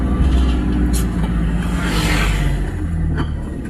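Congested road traffic rumbles steadily from cars, trucks and buses in a jam, a low, constant engine drone with occasional hissing passes, heard from close by.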